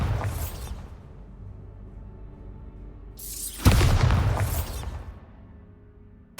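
A Bombarda spell bursts in Hogwarts Legacy, a loud booming explosion with a rushing whoosh that swells and fades over a few seconds, preceded by an earlier softer blast.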